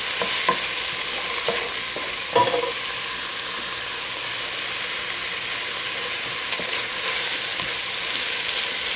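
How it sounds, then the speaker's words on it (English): Onion, garlic and shallot sizzle with sausage in a pot for Zuppa Toscana soup, a loud, constant frying hiss with scattered scrapes and knocks of the stirring spoon and no speech. "Let that onion, garlic, and shallot mix in with that sausage"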